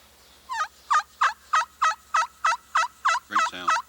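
A thin slate turkey call cupped on a knee and played with a striker yields a steady series of about ten high-pitched yelps, close and crisp, with a brief rougher note near the end.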